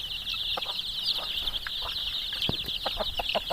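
Free-range country chickens cluck in short, irregular bursts over a constant high chirping of insects or birds, a busy outdoor farmyard scene in Chalisgaon.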